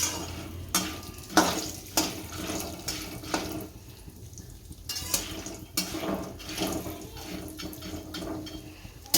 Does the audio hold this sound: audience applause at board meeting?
no